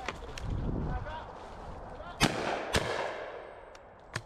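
Shotgun shots ring out during walked-up pheasant shooting with spaniels, two sharp, fairly close blasts a half-second apart followed later by a fainter third, with voices in the background.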